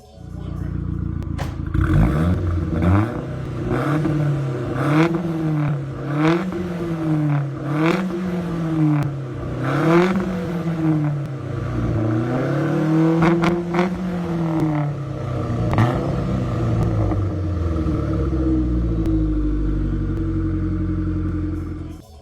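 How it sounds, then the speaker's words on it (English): A Ford Focus FR200 engine revs repeatedly, rising and falling in pitch in steady waves, loud and close, then settles into a low idle rumble. "there is a clip of it revving"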